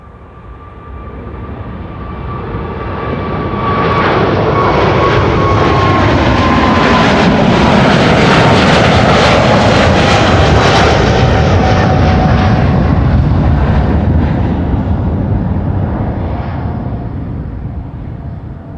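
A KLM Boeing 777-300 jet roars past at Amsterdam Schiphol Airport, swelling from a distant rumble to a loud, broad jet-engine roar with a whining tone, then slowly fading away.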